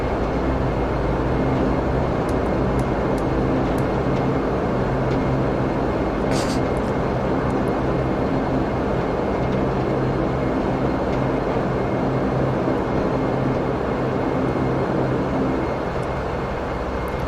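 A steady, broadband engine roar from a Dash 8 Q400 turboprop taxiing on a runway in the FSX flight simulator, continuous and fairly loud throughout, with a faint voice underneath.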